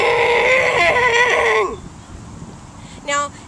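A man imitates a moose call with his voice, a loud drawn-out nasal bellow with wavering harmonics lasting about a second and a half, then a short grunting call after a pause.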